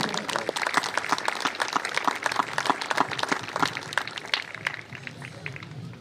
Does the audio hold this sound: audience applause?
yes